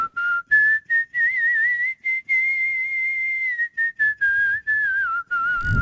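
A person whistles a lively, close tune alone, in short phrases and held notes separated by brief pauses.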